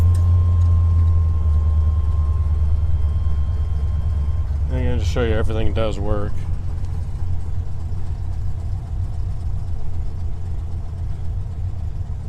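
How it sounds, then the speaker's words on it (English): The warmed-up engine of a 1981 Corvette idles with a steady, deep, low rumble throughout, while someone briefly talks over it partway through. "Engine, as you can tell, is pretty warmed up, even at idle"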